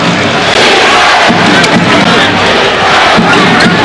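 A sellout basketball crowd cheers at Madison Square Garden, a loud, dense, steady roar that fills the arena with no gaps.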